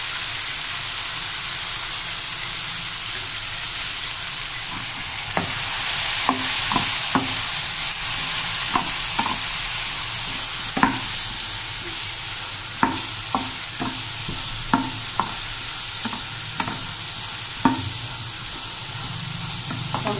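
Brinjal pieces frying in oil for an Andhra-style masala curry, a steady close sizzle broken by sharp clicks and taps of a spoon stirring against the pan, with no talking.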